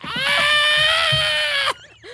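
A person imitates a scream with a single loud, high, sustained shriek lasting well over a second, cutting off abruptly and followed by quieter sounds.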